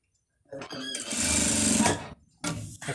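A sewing machine runs in two short bursts while stitching the cuff on a shirt sleeve. The first burst is longer and louder, close up, followed by a brief pause and a second run.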